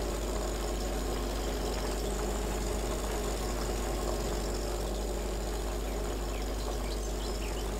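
A UAZ off-road vehicle drives in the Spintires game on the coast map, a steady low engine drone with a knocking idle character that holds at an even level throughout with no pauses.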